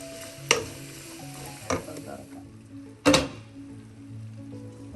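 Onions with salt stirred and fried in a pan for a thick-gravy Kerala chicken curry: gentle sizzling with a faint hum, broken by three sharp scraping strokes of a spoon against the pan, the last the loudest.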